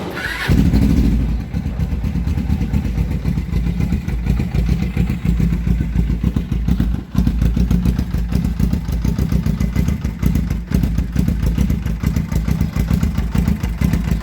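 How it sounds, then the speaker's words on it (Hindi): A carbureted Suzuki GS500 motorcycle fires up from cold, then settles into a loud, steady, slightly uneven close idle with a rapid mechanical patter. "कोल्ड स्टार्ट ज़रा सा इसका वॉबली होना चाहिए, लेकिन कोई इंजन नॉइस नहीं होनी चाहिए"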